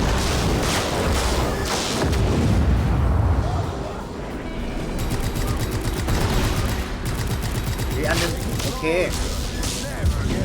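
Heavy explosions and rapid gunfire in the video game Just Cause 3, with booming blasts and rattling bursts at high volume, a player talking briefly over the chaotic battle.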